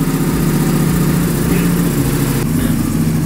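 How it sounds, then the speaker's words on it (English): A 2023 Ducati Panigale V4 sport motorcycle, fitted with a lithium battery, runs at a steady idle, a loud, continuous, close engine drone with no talking. "let's start it up"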